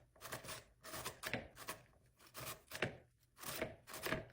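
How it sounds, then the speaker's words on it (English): Zucchini rubbed against a grater for zucchini pancakes, heard as rhythmic rasping strokes about every half second, close and fairly quiet, with no voices. "the zucchini does not want to grate, but we're working through it"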